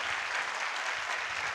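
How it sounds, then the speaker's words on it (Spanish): A conference audience claps in a continuous, even wash of applause, fairly soft and with no voices over it. "Un aplauso para ella, aquí está."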